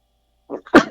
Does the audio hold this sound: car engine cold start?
no